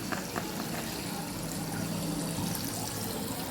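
Water poured steadily into a bucket during hair colouring at home, a continuous splashing, gurgling flow at moderate-to-quiet level with no speech over it.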